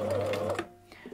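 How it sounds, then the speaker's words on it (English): A domestic sewing machine stitching at stitch length 1.5 and width 5, a steady mechanical whir for about half a second that then stops, leaving faint clicks and handling noise. "lining up the presser foot, down with the needle, back to."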